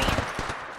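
Automatic weapon fire in the mobile battle royale game Apex Legends Mobile, a rapid burst of loud, close shots crackling for under a second.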